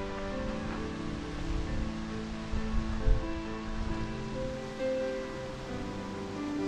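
Juni-taki waterfall in Totsukawa, Nara, roars in a steady, dense rush of falling water, heard up close and continuous, with a rumbling low end and a faint bump partway through.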